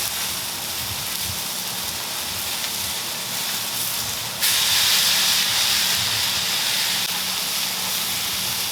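Chicken smashburger patties sizzle on an Evo flat top grill, a steady broadband hiss that jumps louder midway and then holds a constant close crackle with no talk.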